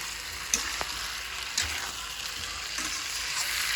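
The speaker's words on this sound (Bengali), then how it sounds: "এবার সবজিগুলো দিয়েও ভালো করে আরও এক মিনিট মতো কষতে হবে" Pre-fried vegetables are sautéed in a pan for a vegetarian dish, giving a dense, even frying hiss with a few brief clanks of the spatula and no voices.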